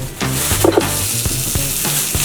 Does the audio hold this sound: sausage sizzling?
yes